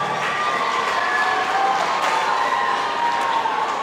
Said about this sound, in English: I think the audience should clap for them.